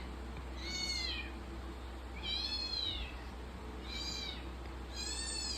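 An orange cat meows repeatedly indoors, four drawn-out, fairly faint calls spaced about a second and a half apart over a low steady hum.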